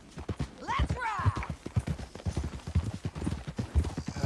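Galloping horse hooves in Red Dead Redemption 2 beat a steady, close clip-clop rhythm, with a brief whinny near the start, under ongoing talk.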